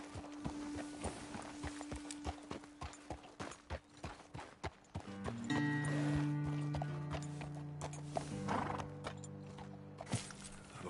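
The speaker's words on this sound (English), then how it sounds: "Best leave the horses back a bit." Horses in Red Dead Redemption 2 clip-clop along at a walk, first with a steady run of hoof strikes and then with a long whinny and snorts close by, with no talk.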